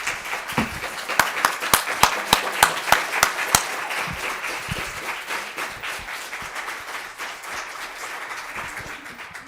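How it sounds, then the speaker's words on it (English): A school board meeting audience applauds board members, a steady wash of many hands clapping, with a few sharp, evenly spaced louder claps near the start before the crowd applause gradually fades. "If we can give them a round of applause for their service."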